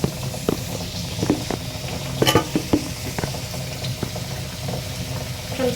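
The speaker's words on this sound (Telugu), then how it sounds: "ఇప్పుడు మనం దీంట్లో టమాటా ముక్కలు అనేది వేసేసుకుందాం." Tomato pieces for brinjal curry sizzle in a pan with a moderate hiss, broken by a series of sharp clatters and knocks, one louder cluster near the middle.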